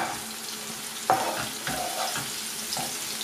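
Fried onion and fat are tipped into a pot with a slotted spoon, giving a soft sizzle and wet sliding thuds with a few spoon knocks, fairly quiet.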